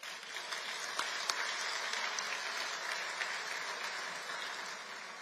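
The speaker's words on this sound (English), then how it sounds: "I think we owe them a round of applause." Dinner audience applauding the meal servers at a veterans affairs event, a steady, moderately distant wash of clapping from many hands lasting throughout, with no voices over it.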